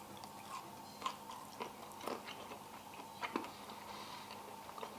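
Close, quiet bites and chewing on a peanut butter fat bomb bar give a few soft crunchy snaps spread across a few seconds, with no talking.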